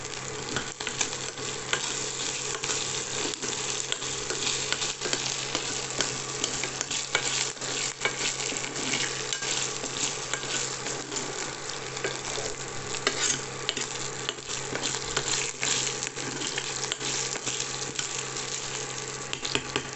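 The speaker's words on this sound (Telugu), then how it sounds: "జింజర్ గార్లిక్ పేస్ట్ వేసాను. తర్వాత కొంచెం ఎండుమిరపకాయ ఒకటి చిన్నది, తర్వాత కరివేపాకు వేసి బాగా కలపండి." Ginger garlic paste, a small dried chilli and curry leaves fry in a pan with a constant crackling sizzle, while a spoon stirs and scrapes steadily through the whole stretch, with no voices.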